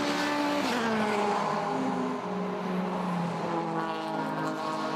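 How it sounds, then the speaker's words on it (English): A BMW race car, number 19, drives at the DeWALT Grand Prix 2021, its engine a loud, sustained roar that climbs and shifts in pitch through gear changes, filling the whole stretch without a break. "That is 15-year-old Carmen Graf, who is going to drive full 2 hours in this BMW number 19."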